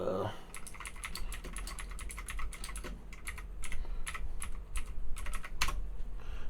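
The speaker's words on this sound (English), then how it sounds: "Ignore the loud keyboard." Rapid, uneven clacking of a computer keyboard being typed on, close and fairly loud, with no voices.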